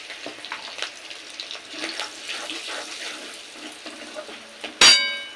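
Tempering spices for a mustard pabda fish curry sizzle faintly while being stirred, with soft scraping and light clinks throughout, then a sudden loud splash of liquid into the hot pan at the end.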